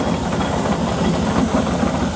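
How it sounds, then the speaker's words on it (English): Working steam engines roll by in a parade at the Netley Marsh Steam & Craft Show, giving a steady loud mechanical chuffing and rumbling drone with a faint rhythmic pulse, close by and with no voices. "these are real working steamers"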